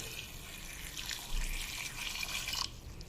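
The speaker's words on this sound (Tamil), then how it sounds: "ஒரு இருநூறு இருநூற்றி ஐம்பது எம்எல் அளவுக்கு தண்ணி சேர்த்துக்கலுங்க" About 200 to 250 ml of water pours steadily into a pot of bitter gourd curry, a continuous splashing trickle that stops abruptly near the end.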